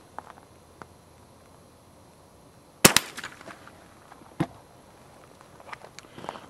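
A .22 fires at a steel pop-up target, one sharp crack followed by brief clattering and a second fainter impact, set against quiet outdoor background.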